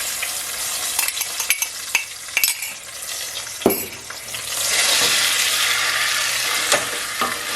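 Tromboncino squash hitting a pan of golden-browned garlic, a few clinks and scrapes of stirring followed by a louder, steady frying sizzle close by.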